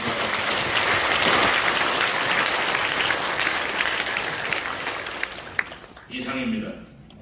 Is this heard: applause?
yes